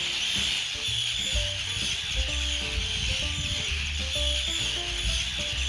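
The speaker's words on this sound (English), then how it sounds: "I think you can hear the terns have definitely arrived." Arctic, common and roseate terns calling constantly at a busy seabird colony around an offshore lighthouse, a dense, steady chorus of harsh overlapping cries with no pauses.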